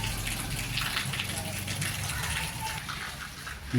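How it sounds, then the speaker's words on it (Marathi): Steady rain falls outside on a morning, a soft continuous hiss with faint patter that stays even throughout, with a muffled voice nearby. "बाहेर पाऊस चालू आहे."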